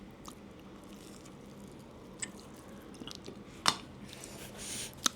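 Fried fruit bajji, battered orange and other fruit soaked in oil, being chewed close up, with soft moist squishing bites over a low background hum and a couple of sharper crunchy bites toward the end.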